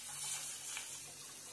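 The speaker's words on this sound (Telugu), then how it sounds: "ఇంకొన్ని వాటర్ పోస్తున్నాం." Water poured into a pot of tamarind rasam with fried onions, a faint soft splashing stream lasting a moment, quiet and alone.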